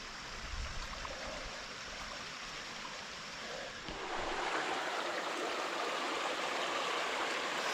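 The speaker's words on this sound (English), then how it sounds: "First tiny waterfall." A tiny waterfall on a rocky woodland stream at Kelly's Run rushes with a steady hiss and splash nearby, the flow growing noticeably louder and fuller partway through, with no voices.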